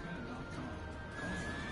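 Horse neighing in the video game Neverwinter, a steady whinny sitting in a dense, continuous wash of game sound.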